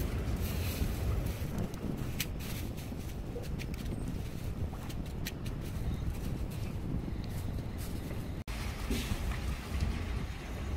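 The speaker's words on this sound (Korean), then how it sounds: "지금 바람이 너무 많이 불어가지고." Strong wind blows outdoors beside a cast-iron camping wood stove being burned, a steady loud rush and buffeting against the microphone that continues throughout without talking.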